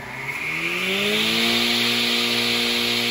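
A vegetable shredder machine runs with a steady loud motor drone whose pitch climbs as it spins up, then holds a constant whine with a gritty rasp on top, no voices.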